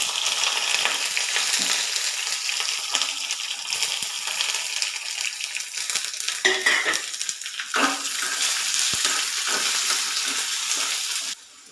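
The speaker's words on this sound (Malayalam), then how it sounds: "പിന്നെ മീഡിയം സൈസിൽ രണ്ട് സവാള അരിഞ്ഞത് അതൊന്നും ഇതിലോട്ട് കൊടുക്കാം" Chopped onions fry in a pan for a vegetable curry. There is a continuous loud sizzle with a few stirring scrapes, and it cuts off abruptly at the end.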